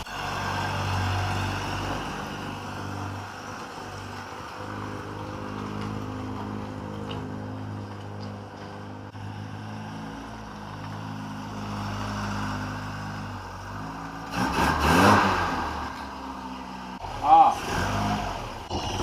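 A Ford Escort Mk3 engine idles steadily in a garage with a low droning hum throughout, then revs up briefly near the end, while someone talks over it.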